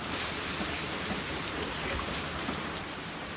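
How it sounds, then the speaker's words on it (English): Heavy hurricane rain pours steadily onto a deck, a dense, even hiss of drops drumming on surfaces with no voices. "So the rain is quite strong right now."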